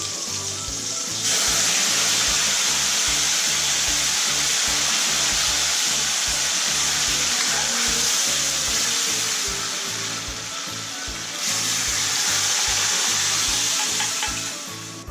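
Masoor lentils hitting a hot tempering with tomato pieces, a loud continuous sizzle and hiss with rhythmic low stirring thumps throughout, briefly easing before surging again.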